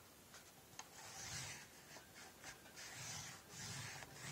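Chipboard is scored by hand, giving quiet scraping rubs in short repeated strokes, close but faint, with no voices.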